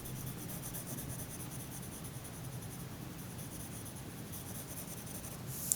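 Pencil shading lightly on paper in a continuous soft scratchy rub, quiet and close, steady strokes without talk for several seconds.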